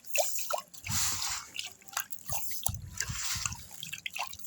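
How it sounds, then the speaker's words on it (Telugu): Rice is swirled in a pot of water to separate out stones, producing repeated sloshing swishes and wet drips in uneven bursts, fairly close and moderately loud. "బియ్యం వేసిన వెంటనే నీళ్ళలోంచి బియ్యాన్ని అలా"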